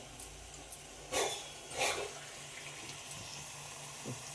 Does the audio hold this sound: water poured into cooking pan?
yes